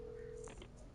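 A telephone is dialed in Alan Wake Remastered, a short steady tone followed by a couple of quick keypad beeps, faint and alone.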